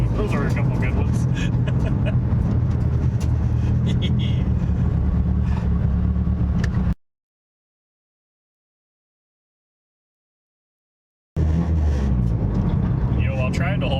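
A car drives over rough, bumpy streets with a loud, steady road and engine rumble. The sound cuts out completely for several seconds, then resumes.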